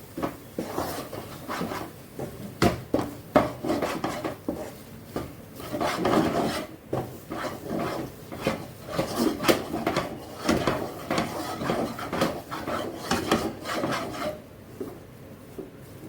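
Dry rice flour being stirred into boiling water in a pan gives steady rhythmic scraping and rubbing strokes, close and fairly soft, running for most of the stretch before fading to near quiet.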